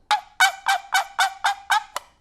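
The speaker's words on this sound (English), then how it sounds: "So this is what the hen sounds like." A wild turkey hen calls in a string of eight evenly spaced, squeaky yelps, loud and close, with nothing else in the background.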